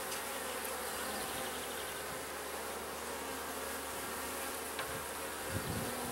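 Honeybees buzzing steadily around an open hive during a spring beekeeping inspection, a dense continuous drone close by with faint clicks of frames, no voices.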